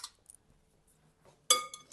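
A spoon mixing pretzels into an Oreo and white chocolate coating, giving a few close, sharp clinks against the bowl after a near-silent stretch.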